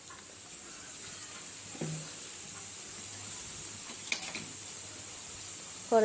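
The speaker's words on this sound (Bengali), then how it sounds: "কড়াইয়ে তেল দিয়ে দিলাম" Oil sizzles in a kadai for frying eggs, a soft, steady hiss close by with a few faint clinks and scrapes of utensils over it.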